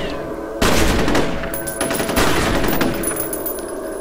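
Rapid automatic gunfire from the F.E.A.R. video game rattles in a dense, loud burst that starts abruptly and carries on with echoing shots and impacts, with no talk over it.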